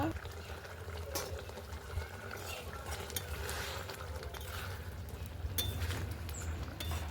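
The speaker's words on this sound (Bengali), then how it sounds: "আর একটু ভালো করে ফুটিয়ে নেব।" A pot of rohu fish curry with eggplant simmering: a low bubbling boil blends with scattered clinks of a spoon against the pan, fairly quiet and close throughout.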